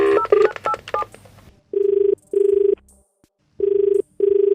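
Touch-tone keys beep rapidly as a phone number is dialed for a prank call, followed by a ringback tone in evenly spaced paired bursts with short silences between them.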